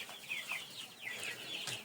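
Young chicks on a poultry farm on their seventh day, a steady chorus of high chirps and soft clucks close by, continuous and overlapping with no talk.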